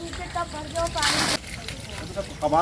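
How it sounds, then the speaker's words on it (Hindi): Water from a rooftop tank motor pours down from above, a sloshing, splashing flow that swells and fades over a couple of seconds, close by with faint voices in the background. "यही टंकी का मोटर का पानी आता है ऊपर से।"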